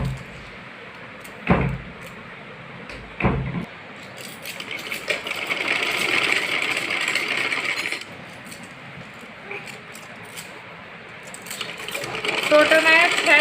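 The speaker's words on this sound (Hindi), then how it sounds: "ये हम जैसे सिलाई कर लेंगे इसकी सीधी।" A sewing machine stitching a straight seam on a garment, running in a steady burst for a few seconds and again near the end, preceded by two sharp knocks and with someone talking in between.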